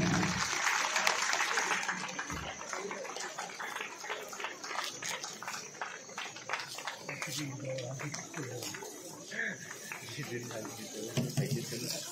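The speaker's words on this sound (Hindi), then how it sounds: "तालियां हो जाए।" Audience applause at a school's 25th anniversary celebration, a steady dense clapping that fills the hall throughout, with voices mixed in underneath.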